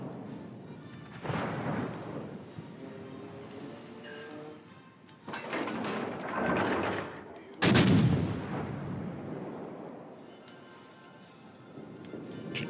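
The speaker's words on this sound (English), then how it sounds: "16-inch guns." 16-inch naval guns fire in a warship video game, several heavy booming salvos with rumbling tails, the loudest blast near the end, with faint background hum between shots.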